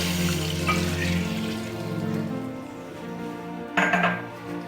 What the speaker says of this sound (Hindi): अब हम इसमें जो मैंने पानी की क्वांटिटी आपको बताई थी वो डाल के